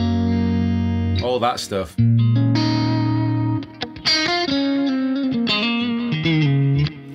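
Vola Joss Allen signature electric guitar with single-coil Fire and Ice pickups, playing sustained chords then quick articulate glassy runs through effects, loud and close, with someone speaking briefly.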